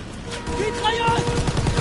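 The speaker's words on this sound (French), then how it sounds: "Mitrailleuse!" Rapid machine gun bursts rattle in the Call of Duty WWII video game, a series of quick, punchy repeated shots growing denser toward the end, mixed with other game sounds and voices.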